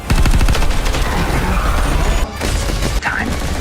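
Rapid, dense bursts of assault rifle gunfire in a science-fiction war film about fighting aliens, loud and sustained across the whole stretch, with a couple of brief sharp breaks near the end.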